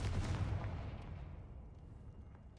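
Confringo spell blast in the video game Hogwarts Legacy, a deep booming burst that rolls and fades over a couple of seconds, loud at first and then dying away, with no talking.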